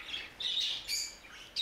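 Budgerigar squawks sound in a nest box: three or four sharp, high, scratchy calls in quick succession, close and fairly faint, with no talking.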